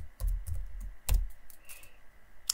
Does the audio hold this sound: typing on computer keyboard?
yes